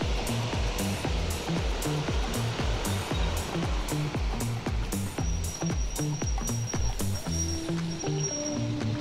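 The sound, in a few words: rushing high water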